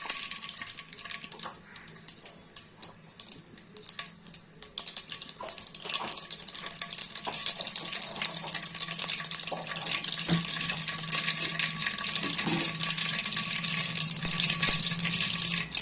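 Mustard seeds crackle and sizzle in hot oil in a kadai, a dense hiss with scattered sharp pops that grows steadier and louder over time, close and uninterrupted by talk.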